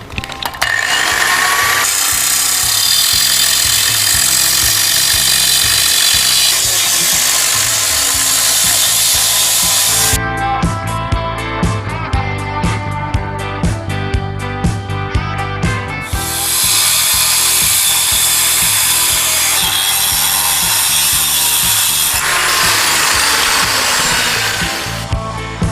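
Metal gate slats being cut in two with a power tool, a loud continuous grinding whine that shifts pitch and texture partway through, steady and close with no talk.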